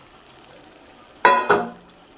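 Mutton curry with potatoes, turmeric and cumin sautéing in a pan, giving two short loud bursts of sizzling as ingredients hit the hot oil, fading quickly back to a quiet background.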